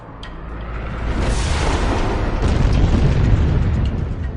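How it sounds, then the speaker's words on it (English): Deep rumbling booms of asteroid impacts bombarding the early Earth build into a loud, sustained roaring barrage, heavy low-end thunder swelling and continuing without a break. "The relentless bombardment destroys the new planet's crust almost as soon as it forms."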